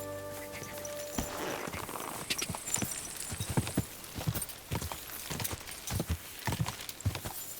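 In Kingdom Come: Deliverance II, steady clip-clop of horse hooves on a hard surface, a regular walking rhythm of sharp hollow knocks, fairly close, after a brief musical tone.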